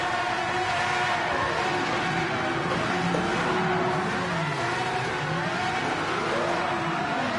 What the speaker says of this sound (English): Yes, it's possible to do burnouts